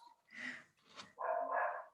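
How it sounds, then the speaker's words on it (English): An indoor dog barks and whimpers close by in a room during an online meeting, giving a few short yelps followed by a longer, louder bark-whine. "I'm sorry, we also have a dog."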